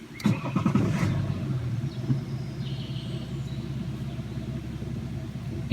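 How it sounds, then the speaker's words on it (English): A 2016 BMW X4 xDrive30d's six-cylinder diesel cranks and fires up close by, then settles into a steady low, even idle rumble. "Let's fire up the engine so you can hear"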